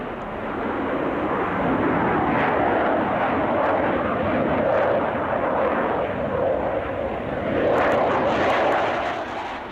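A Panavia Tornado military jet roars loudly and steadily, with the broad engine rumble swelling and easing slightly as it flies, and no talk.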